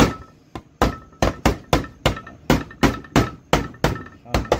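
Hammer blows tapping dents into the plastic tail light of a Honda del Sol, about a dozen sharp, close strikes in a quick, slightly uneven rhythm, each with a short ringing decay.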